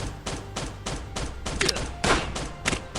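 Gunshots in the mobile survival game Last Day on Earth, fired at close range in a steady run of sharp, evenly spaced cracks with a few louder bursts toward the end and nobody talking.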